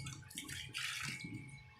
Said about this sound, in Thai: น้ำไหลดีขึ้นกว่าเดิม